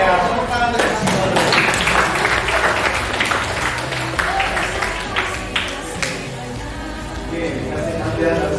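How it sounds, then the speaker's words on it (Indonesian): Students in a junior high school classroom break into lively clapping, a dense burst of many hands that gradually thins out and trails off, with voices mixed in. "Ya, tepuk tangan dari sini."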